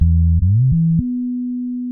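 Bass guitar with parallel compression playing a few clean sliding notes that climb high on the neck, ending on one long, even, sustained tone.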